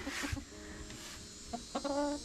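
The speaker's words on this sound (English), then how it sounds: "I'll show you the chicken." A hen in a nesting box gives soft, irregular clucks at close range, with a couple of brief vocal bursts near the end and low background noise.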